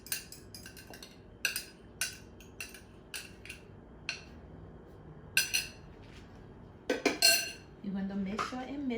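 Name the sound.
mixing rice bread batter in a bowl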